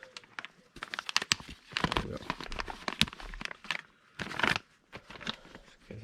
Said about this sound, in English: So let's get this packet opened.